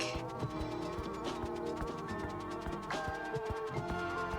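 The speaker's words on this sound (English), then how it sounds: "Here's the bee." Buzzing bee in the cozy video game Cozy Caravan, a steady insect drone over light tinkling game music, alone without any talk.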